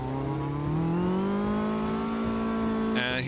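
A Caterham race car in the Automobilista 2 sim racing game at Curvelo Short, its engine droning and climbing steadily in pitch as the rear wheels spin, then cutting off sharply near the end.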